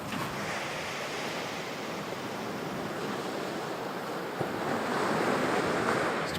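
Ocean surf rolling steadily onto an open beach under a hazy sun, a continuous broad wash with some wind on the microphone and no voices.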